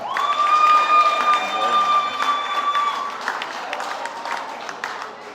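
An audience claps steadily at a primary and infant school leaving ceremony. The applause is fairly loud and sustained, with a held tone over it early on, and it thins slightly toward the end.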